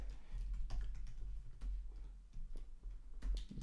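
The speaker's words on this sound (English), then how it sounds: "let me actually type it right there" Quiet typing on a computer keyboard, a scattering of soft irregular key clicks over a low hum, close and faint, with no speech.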